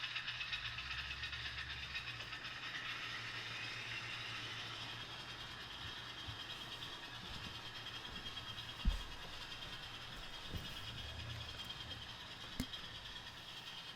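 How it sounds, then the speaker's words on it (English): An Atlas switcher model train locomotive runs on a table layout with a steady, faint mechanical whir and hum, a few light clicks and knocks from the track breaking through. "Oh, I think I hear an Atlas switcher."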